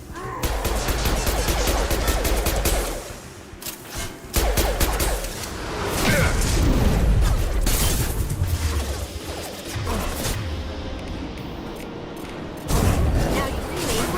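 Gunfire in the Mass Effect 2 video game, dense bursts of shots and crashing impacts continuing throughout, loud and close, with brief dips between volleys and voices talking over the combat.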